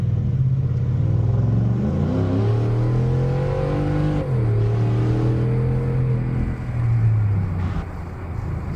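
A Ford F-150 pickup fitted with a retractable tonneau cover rolls forward, its engine humming steadily and close by, rising and falling gently in pitch as it creeps along.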